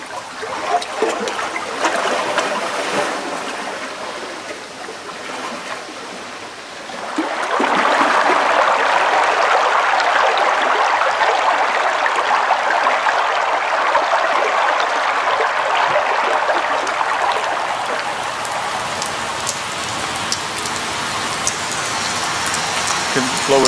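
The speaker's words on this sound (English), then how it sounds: "I'm standing on the Adriatic shore, listening to the lapping water," Water laps against the Adriatic shore in a continuous hissing wash that swells noticeably louder partway through, then holds as a steady, close rush.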